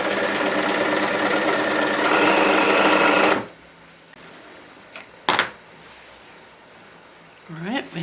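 A sewing machine basting a shirt collar runs loud and steady for about three seconds, then stops, leaving quiet room tone, one sharp knock and a short faint sound near the end.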